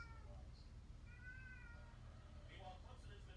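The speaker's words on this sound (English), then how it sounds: "I'm hearing cats." Several cats give soft, drawn-out meows in the background, faint and distant, in three separate calls spread across a low steady hum.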